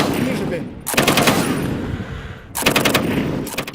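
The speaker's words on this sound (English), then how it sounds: "we've got them making precise shots with a blunt force tool, a high-powered machine gun" A high-powered heavy machine gun fires two long, loud rapid bursts at a shooting competition, with a short pause between them and a faint voice underneath.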